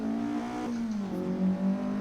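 A Ford Escort MK2 racing car in Assetto Corsa, with a deep Weber-carburettor induction note, revs up and climbs in pitch through gear changes, heard up close and alone.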